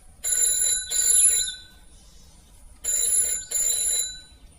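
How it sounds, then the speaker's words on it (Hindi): A telephone rings in two bursts of double trills, with short pauses between them, fairly close and clear. "तभी उसका फोन बजता है"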